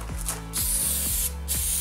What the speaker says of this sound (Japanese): まずは密着ロンをスプレーします。